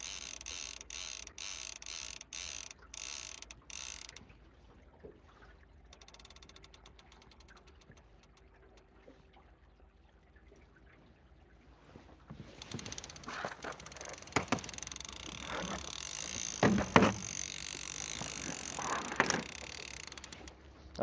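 Fishing reel paying out line on a reservoir outing for pike and kokanee, a rapid ratcheting clicking at first, then a quieter lull, then a longer stretch of buzzing, clicking mechanical noise.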